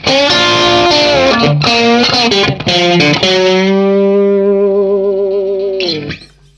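Loud, heavily distorted electric guitar through a Marshall 1987x tube amp head, with a long screaming sustained note that fades out at the end, thick and saturated.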